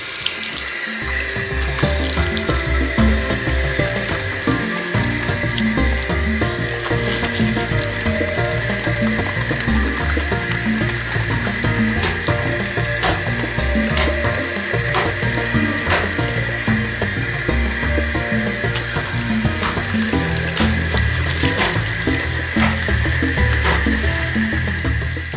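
Hot tap water runs steadily into a sink for a long stretch while felted wool on silk is rinsed and soap is worked into a lather, a continuous close splashing rush with small shifts as the fabric is handled.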